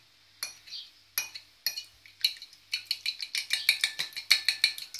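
A fork or whisk clinking rapidly against a bowl while eggs are beaten, starting with a few spaced strikes and speeding into a brisk, even rhythm, close and clear with no talk.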